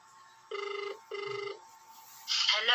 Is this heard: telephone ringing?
yes